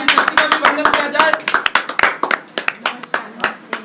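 An audience claps in welcome at the opening ceremony of a pain healer clinic in Khagaul's Anandpuri. The clapping is close and irregular, sharp hand claps overlapping, with voices talking underneath throughout.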